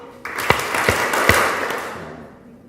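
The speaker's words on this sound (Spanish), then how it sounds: "Ya vamos a aplaudir 3 veces." A church congregation claps in unison three times, three sharp distinct claps over a warm roomy hall ambience, followed by a fading murmur.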